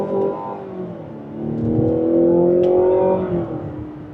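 A 2026 Mazda CX-90 PHEV Platinum Plus SUV accelerating hard in sport mode, held in second gear, its engine note rising steadily and swelling louder before easing off, heard from inside the cabin with no talking.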